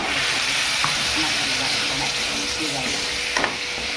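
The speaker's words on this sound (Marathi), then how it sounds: "मसाला शिजवण्यासाठी पाणी टाकायचं." Homemade masala sizzles hard in a hot pan as water is added to cook it for a spicy sukkat rassa, a dense, loud, continuous hiss close by, with a couple of faint clinks and speech partly under it.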